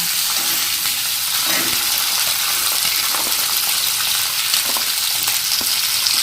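Capsicum frying in a pan, a dense continuous sizzle near and loud throughout, with faint scraping from occasional stirring and no voices.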